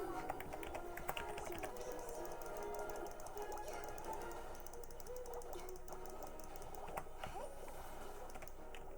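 Rapid clicks of computer keys tapping continuously, close and soft, while playing Genshin Impact, with game sounds and a voice murmuring underneath.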